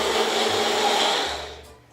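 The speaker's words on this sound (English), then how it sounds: "You put your blender bottom on and you blend it." A home blender whirs steadily as it mixes salad dressing, a loud continuous motor drone that fades out near the end.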